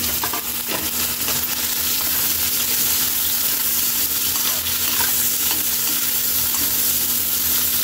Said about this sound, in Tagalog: Lagay na natin Kaylee ng ating sibuyas, red and white onion.